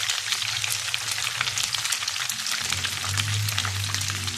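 Cumin Vienna steaks fry in a pan until golden brown and crispy, with a dense, steady sizzle and spitting crackle under a low hum, close and continuous.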